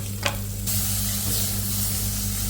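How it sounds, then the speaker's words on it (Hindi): Tomatoes fry with onions, turmeric, coriander powder, cumin powder and garam masala in a pan for dal, a steady close sizzle hissing throughout with no talk. "दाल यहाँ पे जस्ट टमाटर फ्राई हो रहा है"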